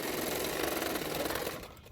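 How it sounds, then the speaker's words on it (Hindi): A sewing machine stitches the shoulder seams of a long frock in a brief, rapid, rattling burst that tapers off after about a second and a half. "तो दोनों शोल्डर को मैंने 1/2 इंच मार्जिन रखते हुए सिलाई कर लूँगी।"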